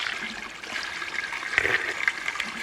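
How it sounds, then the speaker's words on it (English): Water from a natural mountain spring runs in a steady, close trickle and splash among rocks, continuous throughout with no voices. "Oh, I'm gonna drink from a natural spring."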